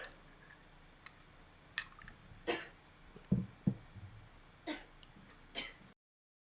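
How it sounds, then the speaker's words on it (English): A few scattered short coughs and throat-clearing sounds during a trivia event, fairly faint, separated by quiet pauses with small ticks in between. "A couple of coughs."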